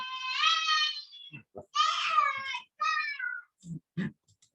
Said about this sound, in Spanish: Esa es mi hija gritando con mucho ímpetu.